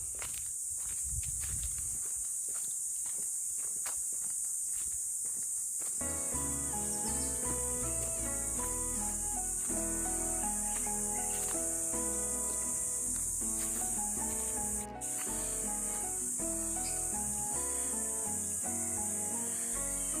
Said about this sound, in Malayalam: കുറച്ച് ചീവീടുകളുടെ കരച്ചിൽ കേൾക്കുന്നുണ്ട്.